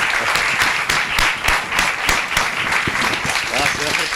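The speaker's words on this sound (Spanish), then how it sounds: "vamos a darle un aplauso a Martín Traverso Schaeffer" A conference audience gives steady, loud applause for a speaker, many hands clapping in a dense, even wash, with a few voices underneath.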